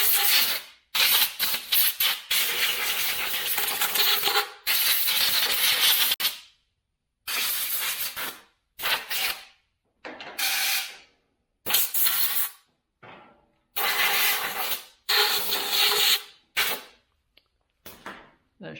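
Compressed air blasts out spider webs and debris from a John Deere 495 planter in a series of loud hissing bursts of varying length, separated by short silent pauses.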